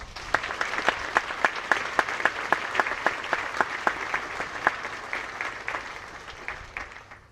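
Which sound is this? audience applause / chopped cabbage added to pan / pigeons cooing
audience applause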